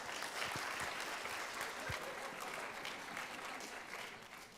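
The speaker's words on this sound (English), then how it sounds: "Give them a good round of applause." An audience at a school theater show bursts into steady applause for the costumed performers. The dense clapping sounds slightly distant and holds an even level before easing off toward the end.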